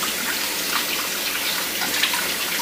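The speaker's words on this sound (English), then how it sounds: "we're going to take the potato and just run it through water" Running tap water pours over a potato being rinsed clean in a kitchen while making Puerto Rican relleno de papa, a close, steady splashing hiss with small irregular spatters and no talking.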